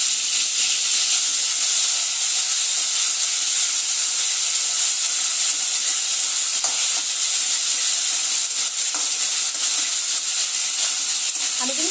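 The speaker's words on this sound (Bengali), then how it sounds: "মশলাটাকে দিয়ে কষিয়ে নেব" Spice paste of ginger, cumin, green chillies, cashew, poppy seed and melon seeds frying in a pan, a steady bright hiss and sizzle throughout with a few soft scrapes of stirring.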